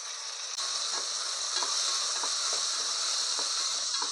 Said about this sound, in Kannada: ಈ ಟೊಮೆಟೊ ಸ್ವಲ್ಪ ಮೆತ್ತಗಾಗೋವರೆಗೂ ಒಂದು 2 ನಿಮಿಷ ಚೆನ್ನಾಗಿ ಹುರ್ಕೋಬೇಕು